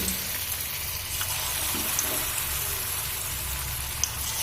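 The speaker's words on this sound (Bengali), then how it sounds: "সজনে ফুলের পকোড়া ভাজবার জন্য পরিমাণ মতো তেল দিয়েছিলাম আর তেলটা গরম হয়ে আসছে" Drumstick flower pakoras fry in hot oil in a pan, giving a steady, even sizzle with a few small pops, close and moderately quiet.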